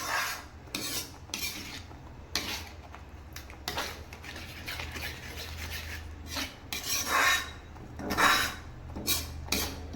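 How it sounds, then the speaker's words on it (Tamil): A spoon scrapes and rubs against a pan in repeated uneven strokes while thickening milk and sugar are stirred into palkova, a soft, close kitchen scraping with no talk. "இதை முழுசாக கிண்டிகிட்டே இருந்தோம்னா ஒரு 1/2 மணி நேரம் கிண்டணுங்க"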